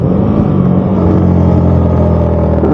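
A car engine on the winding hill road to Sajek Valley drones loudly and steadily after a downshift, with its mid-range rumble held at high revs.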